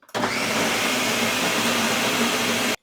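A loud, steady motor whirs continuously for a few seconds, starting and stopping abruptly, like a blender running close by.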